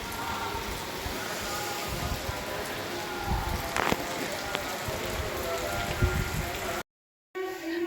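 Steady heavy rain pours down, a dense continuous hiss of drops striking a surface, briefly cutting out near the end.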